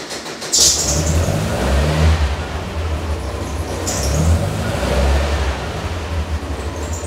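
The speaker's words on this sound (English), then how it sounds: "I would crank the engine and not hit the throttle until you hear it fire" A Toyota MR2 engine turns over and catches, settling into a steady low rumble with a couple of revs, heard up close with no talking.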